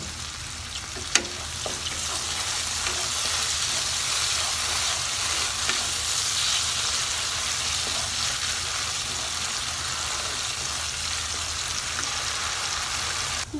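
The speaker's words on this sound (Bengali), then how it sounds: "এর মধ্যে হালকা একটু জল দিয়ে এটাকে আবার ভালো করে কষিয়ে নেব।" Spice paste for katla fish kalia fries and is stirred in a pan, a steady, loud sizzle running throughout with occasional scraping stir sounds and one sharp clack near the start; no talking.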